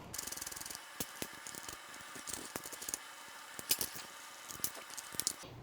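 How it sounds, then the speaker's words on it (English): A rear fender mounting bolt being removed on a BMW R80 RT motorcycle, quiet rapid ratchet clicks in bursts with scattered metallic taps close by, no talk. "Just going to go ahead and remove this rear fender mounting bolt right now to get the bracket out of the way."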